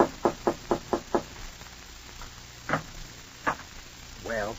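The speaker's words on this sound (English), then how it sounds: "Your throat feels a little tight as you go upstairs and knock on the door." A door in an old-time radio drama is knocked on five times in a quick, even run, followed by a few scattered fainter knocks and a brief voice-like sound at the end.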